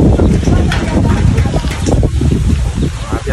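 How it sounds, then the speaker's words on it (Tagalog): Strong wind roars and buffets the microphone outdoors during cooking, a loud, continuous rumble that fills the whole moment. "Grabe hangin."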